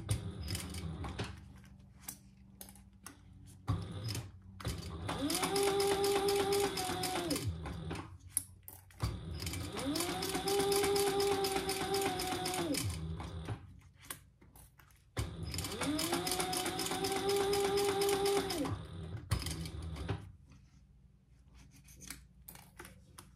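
A sewing machine top stitches a fabric bag handle in three long steady runs, each a few seconds of rapid whirring with pauses between, close and fairly quiet.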